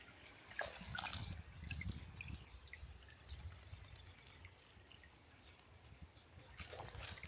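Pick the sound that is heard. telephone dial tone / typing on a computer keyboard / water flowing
water flowing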